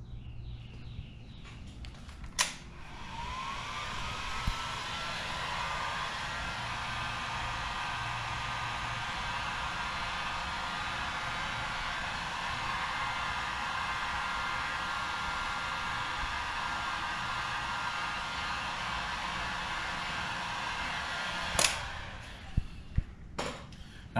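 Heat gun blowing on heat shrink tubing over a wiring harness for a Honda CR-V RD1 door jamb, a steady, faint airy hiss held for about twenty seconds, with a few clicks and taps at the start and end.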